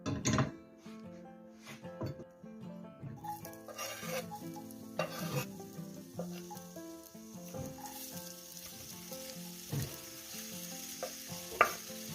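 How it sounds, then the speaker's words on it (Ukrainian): Onion and garlic sizzling in oil in a pan, with stirring scrapes and clinks from a utensil over a steady frying hiss. "Цибулю і часник викладаємо на нагріту з олійкою сковорідку."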